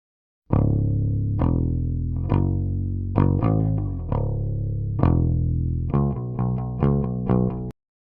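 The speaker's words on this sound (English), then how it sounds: "here's our raw recorded bass tone" Plucked bass guitar notes, clean and unprocessed, played in a simple line of distinct sustained notes, ending in a quicker run before stopping.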